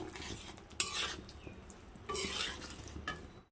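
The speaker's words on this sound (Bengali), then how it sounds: "এবার আমি নামানোর আগে একটু সর্ষের তেল দিয়ে দেব। দিয়ে নাড়াচাড়া করে আমি এবার নামিয়ে নেব।" Drumstick curry with a splash of mustard oil is stirred in a pan, giving three scraping bursts of utensil against metal over a soft background sizzle, close and without talk.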